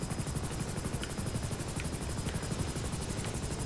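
A helicopter lands in the GTA 5 Online video game, its rotor chopping in a loud, steady rhythmic thump over a constant engine whine, with no speech.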